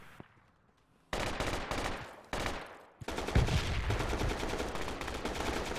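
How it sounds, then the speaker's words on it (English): Enemy gunfire in the video game Project Reality: sudden loud bursts of rapid automatic fire start after a quiet moment, break briefly, then resume in sustained, dense volleys. "That's enemy fire."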